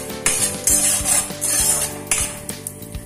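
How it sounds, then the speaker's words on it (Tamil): Already-roasted peanuts being stirred in a pan until golden, with metal spoon scrapes and clattering knocks against the cookware in quick irregular strokes, close and loud with little sizzle. "நம்ம வேர்க்கடலையும் அதுல போட்டு வறுத்துக்குவோம்"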